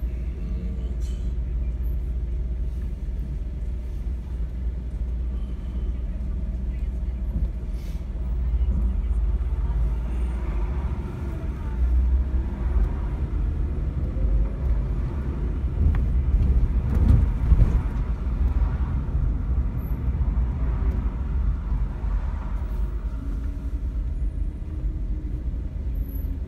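A city bus idles and rumbles in Toronto traffic near Bathurst Street, with a continuous low engine drone and passing traffic noise, and people talking over it.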